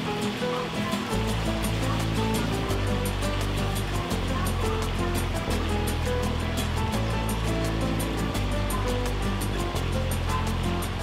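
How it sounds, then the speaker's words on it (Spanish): Ripe plantain empanadas filled with ground beef fry in hot oil, a dense continuous crackling sizzle with steady bubbling, loud and close throughout with no talk. "Freímos un par de minutos solamente en aceite caliente."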